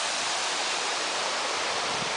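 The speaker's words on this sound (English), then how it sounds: "There's a little waterfall there." A small waterfall at an outdoor filming location pours in a steady, dense rush of water that holds evenly and loudly throughout, with no other sounds breaking through.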